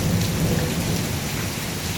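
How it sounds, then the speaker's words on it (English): Hail and heavy rain pour down in a summer storm near Galveston Bay, a dense, constant roar of drops hitting surfaces with low rumbling underneath, loud and close with no voices. "it shouldn't be hailing"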